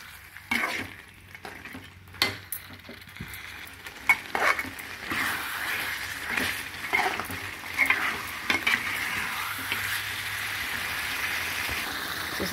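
Chicken fries in oil in a pan, starting with sharp clatters and scraping stirs that give way to a building, continuous close sizzle, with no one talking.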